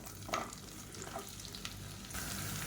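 Long-sliced large onion sizzles in hot oil in a pan for a biryani, a steady crackling fry with occasional louder pops and spatters, fairly faint and close.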